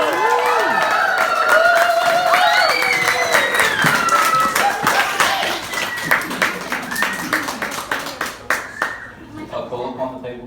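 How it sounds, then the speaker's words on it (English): Wedding guests break into loud, dense applause that gradually thins into scattered claps near the end. "Give Rachel a round of applause, everyone."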